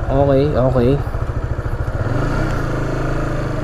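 A Honda Supra GTR 150 motorcycle ridden over rough semi off-road ground, its engine pulsing steadily close by, with a voice talking over the start.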